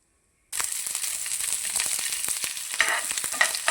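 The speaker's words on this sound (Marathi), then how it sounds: "बघा अशा प्रकारे खोबरं भाजून घ्या" Coconut being dry-roasted in a pan for flaxseed chutney, starting after a brief silence with a steady close sizzle and crackle, and light scraping stirs throughout, no voices.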